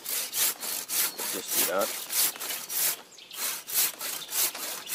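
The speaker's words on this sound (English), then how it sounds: "You don't press, you just use all the saw and you don't press." Hand saw cutting through wood in a woodland setting, steady rhythmic rasping strokes close up, about ten back-and-forth pulls, with someone speaking briefly partway through.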